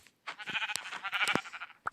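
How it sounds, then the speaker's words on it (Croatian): Sheep bleating in the Minecraft video game, a few short wavering bleats close and fairly loud, followed by a brief sharp hit near the end. "Evo da ubijemo sada onu ovcu."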